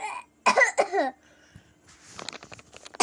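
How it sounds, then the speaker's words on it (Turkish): A short burst of two or three coughs up close, followed by quieter breathy sounds and soft shuffling. "Öksüreceğim."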